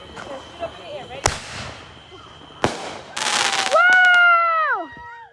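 Backyard fireworks shoot up with sharp cracks, then a crackling burst ends in descending whistling tones, loud and close, while faint voices murmur in the background early on.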